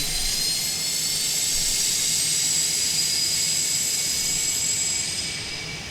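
A Griffin G39 jet engine starting in Microsoft Flight Simulator roars with a loud, high-pitched whine that holds steady throughout, easing off slightly at the very end.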